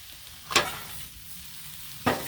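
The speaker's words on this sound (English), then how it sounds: "Taters are getting a nice sear." Potatoes, cabbage and kielbasa on a Blackstone griddle give a low steady sizzle, with two sharp scraping stirs of a spatula across the hot surface and no talking.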